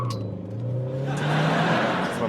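A car accelerates hard through a test-track lap, the engine note rising steadily and sustained, close and loud with no speech over it.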